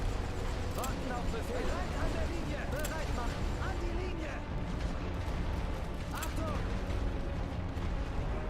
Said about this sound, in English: Suppression bombardments, go.